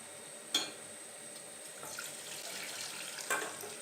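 About a litre of tap water pours into a cooking pot for a karela daal chana dish. The flow is soft and steady, with a couple of sharp clinks against the vessel near the start and end.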